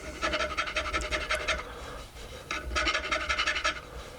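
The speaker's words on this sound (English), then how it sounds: "I can come back with the little finer file" A file rasps across the frets of an electric guitar kit neck in short rhythmic strokes, close up. One burst of strokes is followed by a brief pause and then a second burst.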